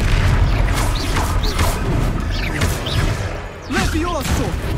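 The Confringo explosion spell in the video game Hogwarts Legacy, with booming blasts and whooshing magic effects repeating through a busy combat mix and a voice speaking over it.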